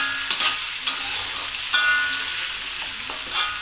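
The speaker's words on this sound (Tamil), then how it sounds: "அப்போ நல்லா எண்ணெயில் நல்லா வதங்கும் தக்காளி பழம்." Tomato frying in oil for chicken dalcha, a steady close sizzle with light scraping and stirring clicks running throughout.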